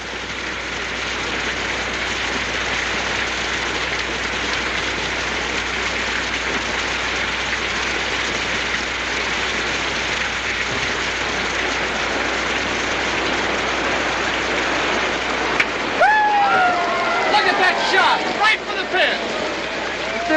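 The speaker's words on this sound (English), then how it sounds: "And still the rain kept coming down." Heavy rain pours down steadily in a 1951 film scene, a dense continuous hiss that fills the whole stretch, with brief voices surfacing near the end.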